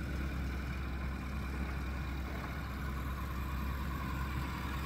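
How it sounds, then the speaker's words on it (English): A steady, faint whir from the thrust motor of a solar-powered blimp during a thrust test, continuous and unchanging with no talk over it. "how else would they hear the beautiful whirring sound for 5 minutes and 30 seconds?"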